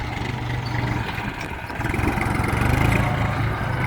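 A farm tractor engine runs steadily at a mid-pitched chug, close and loud, its throb rising slightly partway through as the machine works harder.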